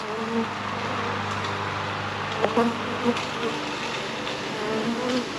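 Honey bees from a live package drone and buzz in a steady hum close by, with a few brief louder buzzes passing near the microphone.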